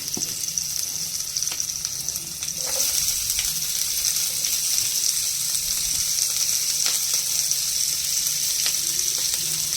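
Onion, capsicum, green chillies, curry leaves and turmeric sautéing in a hot pan, a steady close sizzle throughout with a few soft stirring scrapes, and no voices.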